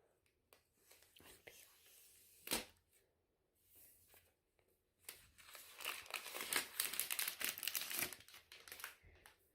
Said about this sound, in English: Okay, so we're going to be unboxing the iPad.